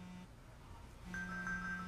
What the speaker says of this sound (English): Because my phone is ringing?